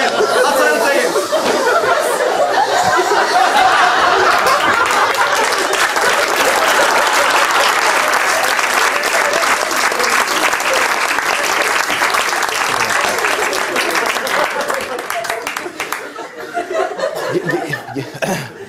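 A television comedy studio audience imitates the sea with a long, steady roar of breathy whooshing and hissing, loud and sustained, broken by scattered laughter, chuckles and coughs before it thins out toward the end.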